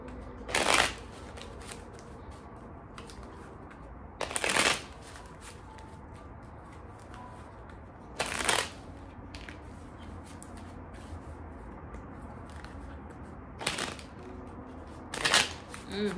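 Tarot cards being shuffled in short, crisp riffling bursts every few seconds against quiet room noise, five or six separate shuffles spread across the stretch.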